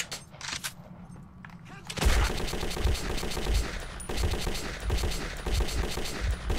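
Rapid automatic gunfire fills the Metro 2033 video game after a quieter start. The bursts are loud and dense and run continuously, with a few heavy thumps mixed in.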